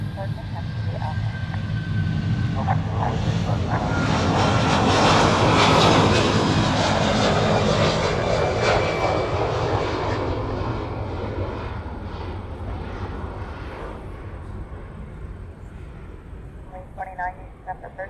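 Loud, sustained roar of aircraft engines during departure at Honolulu airport, swelling and then slowly fading. Air traffic radio chatter continues over the top.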